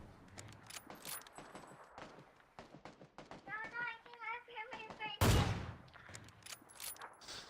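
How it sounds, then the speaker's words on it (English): Gunfire crackles in a battle royale video game: scattered shots and one sharp loud burst near the end, mixed in with ongoing player chatter and game sounds. "I hear gunshots getting closer."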